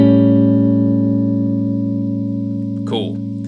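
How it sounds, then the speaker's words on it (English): A guitar sounds a dominant 7th shell voicing chord, struck once and left to ring steadily and fairly loud. A brief squeak or noise enters near the end. "So let's find our dominant 7th form of the chord."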